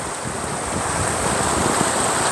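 Floodwater gushes out from under a bridge, a continuous loud rushing roar with a windy hiss, close and steady with no voices.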